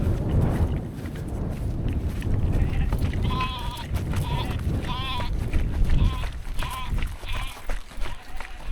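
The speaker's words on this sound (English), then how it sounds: "Hello, goats." Goats on a hillside bleat several times in a row, close and fairly loud, mixed with a runner's heavy breathing and voice during ultra marathon training.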